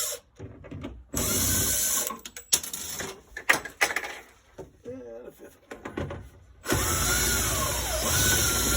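A power tool whirs in bursts while screws are backed out of a thermostat assembly, several short on-off runs of varying length followed by a longer steady spin near the end, with a voice heard between the bursts.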